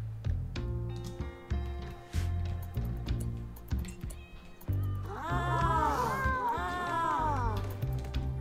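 Cats meowing and caterwauling in the video game Rimworld as they are butchered, several rising and falling cries stacking up in the second half over ticking game sounds and music.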